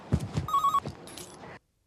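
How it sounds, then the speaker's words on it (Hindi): A telephone rings late at night inside a home, its electronic bell tone repeating in short bursts for about a second and a half over a faint background, with no talking. "इतनी रात को किसका फोन है?"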